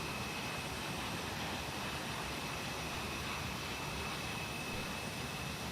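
Steady broadband roar of a jet airliner's engines in Microsoft Flight Simulator 2020, a constant cabin-level drone with a faint high whine, unbroken and loud with no talking.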